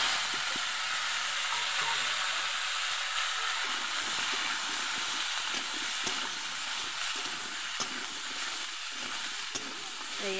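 Potato and papaya fry in oil with cumin in a wok, giving a steady, close, hissing sizzle that holds at an even level throughout, with faint stirring and light clatter underneath and no talking.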